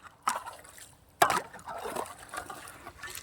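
Water trickles and splashes softly in bursts along a farm irrigation channel, with a louder slosh early on and a steady low flow underneath, faint and close by.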